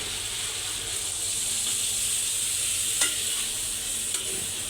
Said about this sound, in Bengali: হালকা একটু গরম পানি দিয়ে হালকা করে কষিয়ে নেব